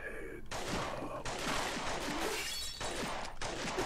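Rapid gunfire from a gun in a zoombie-fighting video game, a dense burst of sharp cracks and shattering impacts continuing steadily and loudly throughout.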